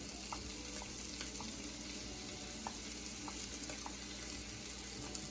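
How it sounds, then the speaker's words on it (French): Mushrooms sizzle in a hot pan as they go in, a steady frying hiss with small pops and crackles scattered throughout, close and even in level, with no talking. "Maintenant, je vais rajouter les champignons."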